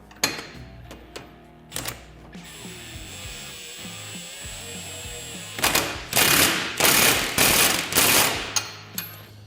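Wrenches working 19 mm nuts on a rack and pinion install on a Polaris RZR XP Turbo, with sharp ratcheting clicks early, a quieter stretch, then a run of loud rapid clattering bursts close by.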